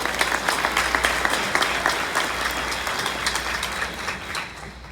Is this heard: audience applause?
yes